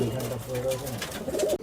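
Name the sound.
pigeons cooing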